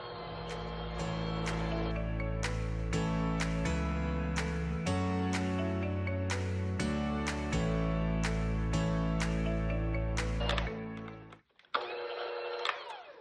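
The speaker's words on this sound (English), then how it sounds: "we're going to mix in the dry ingredients on low speed" Stand mixer running on low speed while it blends dry ingredients into cookie dough, a steady motor hum whose pitch shifts in steps. It stops briefly near the end, then starts again, and no one talks.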